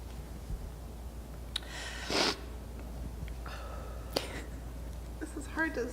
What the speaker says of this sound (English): This is hard to blow my nose with a mask.